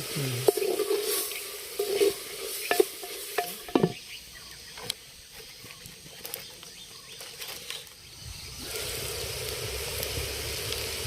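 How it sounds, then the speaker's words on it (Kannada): Mixed vegetables with peas and tomato fry in a pan while being stirred for a paneer pulao cooked outdoors in a village courtyard, a soft sizzle broken by scraping spoon knocks, then a steady hiss, no voices. "ತರಕಾರಿ ಫ್ರೈ ಆಗೈತೆ ಅರ್ಧ ಬರ್ಧ"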